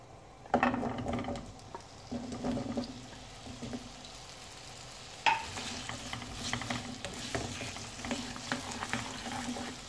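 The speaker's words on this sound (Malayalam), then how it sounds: "ഉരുളക്കിഴങ্ങ് അങ്ങോട്ടേക്ക് ഫ്രൈ ചെയ്തെടുക്കണമെന്ന്." Potatoes fry in coconut oil in a pan with a steady sizzle, broken by bursts of stirring and scraping. The first burst comes early and a louder one comes midway.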